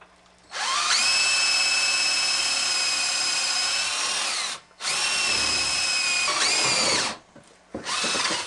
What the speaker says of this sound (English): you might want to put the piece of wood actually over top one of the pieces you're drilling on so that it doesn't crack the wood